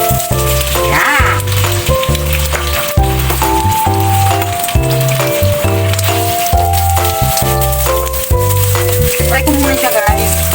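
Sausages fry in a pan, five pieces browning for a macaroni pasta dish, giving a steady soft sizzle that runs throughout beneath louder rhythmic background music.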